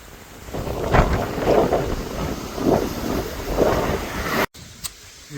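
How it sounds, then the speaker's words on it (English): Wind buffets the microphone while cycling toward Cape Soya in northern Japan, rumbling in repeated gusty surges about a second apart, loud and close, then briefly cutting out before resuming. "when it's more of a headwind, it's not as bad as a crosswind"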